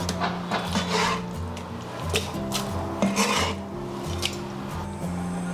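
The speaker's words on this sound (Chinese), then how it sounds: "再给它切对半" A knife cuts boiled pork belly into smaller pieces, making several scattered chopping and scraping strokes against a board over a steady tonal background.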